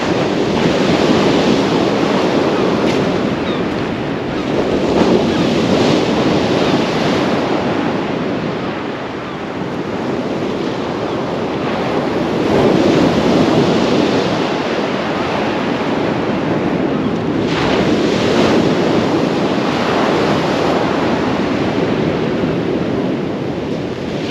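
Strong wind roars across the microphone while heavy surf breaks continuously on the Holderness coast at Withernsea, a dense, loud wash of waves and gusts with no pause.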